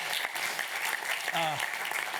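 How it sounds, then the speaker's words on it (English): Audience applause fills a conference hall at the UX LIVE 2018 design event, steady dense clapping throughout with a brief voice rising over it midway. "So, round of applause for them."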